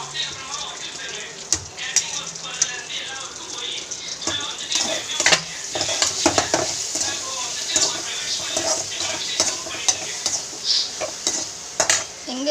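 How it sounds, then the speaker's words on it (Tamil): A spoon scrapes and clatters in a pan as ground onion paste fries in a mutton bone curry, with a soft sizzle under repeated stirring strokes close by. "வெங்காயம் அரைச்சி ஊற்றிட்டு நல்லா கிண்டி விட்டுறணும்."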